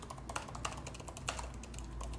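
Rapid keystrokes on a MacBook Air M1's Magic Keyboard, an irregular run of soft, close clicks with a few louder taps, heard alone with no talk.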